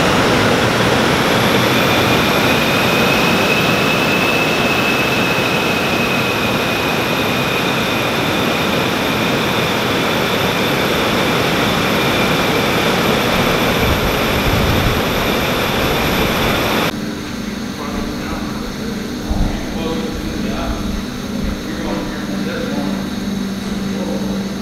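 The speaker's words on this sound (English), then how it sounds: "we just finished up the wind tunnel test on our dual element and single element on the Kelly Moss" A wind tunnel running at about 130 mph during aero testing of dual- and single-element rear wings on a Kelly-Moss race car, a loud continuous roaring rush with a high whine that settles into a steady hum.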